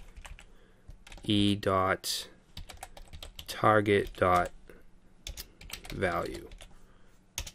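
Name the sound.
typing on a computer keyboard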